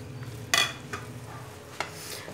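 A spoon scrapes and clinks in a pan as sweet vermicelli is mixed with fried dry fruits, a few distinct knocks over a faint background hiss.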